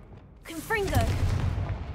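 A voice calls out a spell, then the Confringo blasting spell fires in Hogwarts Legacy: a deep booming burst that rumbles on for about a second.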